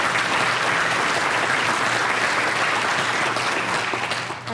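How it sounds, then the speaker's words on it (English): Sustained applause from an audience at an awards luncheon, a dense steady roar of clapping that holds loud throughout and begins to thin only at the very end. "Round of applause for them, please."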